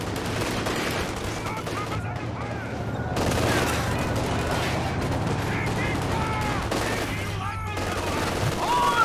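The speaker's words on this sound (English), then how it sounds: "Garrisons offering slightly less protection against small arms fire like this." Small arms fire crackles continuously in the Company of Heroes 2 real-time strategy game, dense overlapping bursts of rifle and machine-gun shots against a steady battle din.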